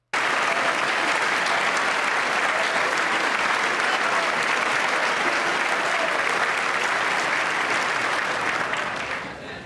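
Sustained applause from a large audience at a State of the Union address, dense and loud clapping continuing for nearly ten seconds before starting to fade.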